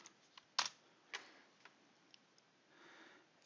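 A few sparse, quiet clicks of keys on a computer keyboard, one sharper tap standing out, over a faint background hiss in a quiet room.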